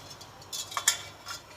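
A spoon stirs milk in a pot on the stove, giving a few light clinks and scrapes against the metal. The sounds are soft and scattered over a quiet background.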